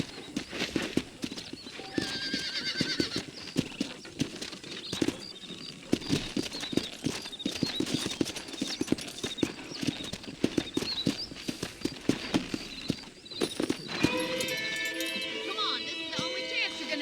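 Horse hooves clip-clopping steadily in Red Dead Redemption, with a horse neighing and whinnying near the end, under frequent game dialogue and background ambience.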